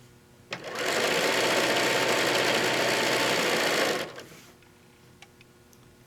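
A sewing machine runs in one steady burst of about three seconds, stitching six inches of a quilted table runner made from charm packs, loud and close, then stops abruptly into quiet room tone.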